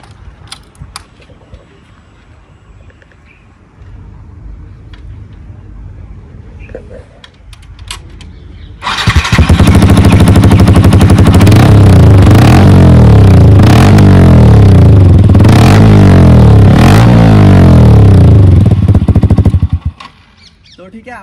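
A Yamaha R15 V3 with an Akrapovic full-system exhaust and no dB killer idles quietly under faint background sounds, then bursts into a very loud, raspy, sustained revving roar before abruptly cutting off.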